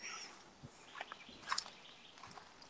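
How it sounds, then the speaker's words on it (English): Birds call outdoors on a wet, rainy morning, a few faint, high chirps and short tweets scattered across the quiet, with a brief cluster of sharper notes near the middle and distant patter underneath. "I hear you, birds."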